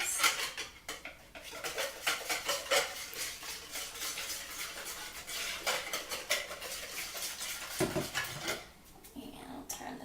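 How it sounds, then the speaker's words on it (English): Mixture seasoned with a dash of nutmeg being whisked in a bowl: rapid, continuous metallic clicking and scraping strokes, close and fairly loud, keep going almost without pause. "Give it a good whisk."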